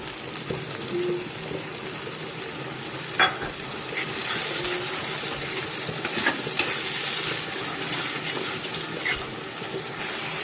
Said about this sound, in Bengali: এবার এতে হলুদ গুঁড়ো লঙ্কা গুঁড়ো দিয়ে রেখেছি, এর মধ্যে দিয়ে ভালো করে কষিয়ে নেব